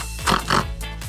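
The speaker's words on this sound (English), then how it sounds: "This is a pig." A pig oinks twice in quick succession, close and fairly loud grunting snorts over a low steady background hum, with a softer third grunt trailing after.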